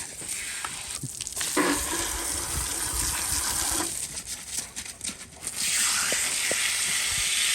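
Continuous hissing spray of water from a hose in a yard, loud and close, with the stream shifting in strength and splashing throughout.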